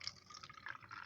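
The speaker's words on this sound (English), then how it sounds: "So I'm going to pour off a little bit of this lye into this container," Lye being poured from its bottle into a small container while bleaching mahogany wood, a soft, steady trickle of liquid that runs for about a second with gentle rises and falls and no talking.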